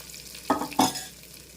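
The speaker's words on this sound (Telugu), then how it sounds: "ఇప్పుడు తాలింపు కొద్దిగా ఎత్తి ఈ పప్పుచారులు వేసుకున్నాము" Two short bursts of stirring and frying from a tempering for gongura dal in a pan, the second slightly stronger, over a faint sizzle with no talking.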